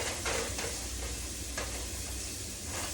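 Shallots and garlic sizzling in olive oil in a pan, a steady close frying hiss with a few light stirring taps, no talk.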